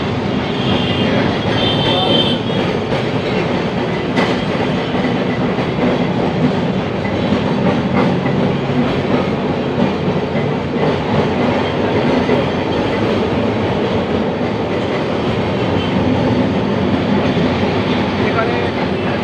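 A tram rolls along with a steady metallic rumble and clatter heard from inside the car, joined briefly by a high wheel squeal near the start and by faint background voices.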